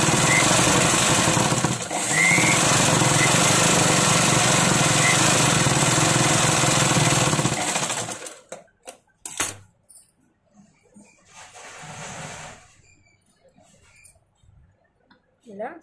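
A sewing machine stitching a blouse neck runs in a loud, continuous whirr for about eight seconds, then stops, leaving scattered handling clicks and a brief faint burst.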